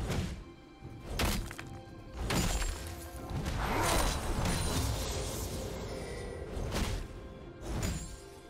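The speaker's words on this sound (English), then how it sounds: "turret has been destroyed" A turret being destroyed in League of Legends: a series of heavy thunks and shattering crashes, then a rumbling collapse of debris, loud and close over several seconds.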